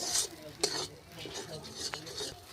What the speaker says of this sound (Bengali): এখন আমি ভালো করে কড়াইশুটিগুলো ভেজে নেব